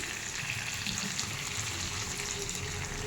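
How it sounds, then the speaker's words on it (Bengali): Water poured into a pot of meat and potato curry that has been well fried down, a steady splashing gush that runs the whole time with no talking. "এবার এর মধ্যে জল ঢেলে দেবো। বেশি জল দেব না।"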